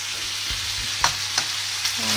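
Chorizo frying in a pan, a steady close sizzle with a few sharp clicks of stirring or utensil taps over a constant hum, no voices.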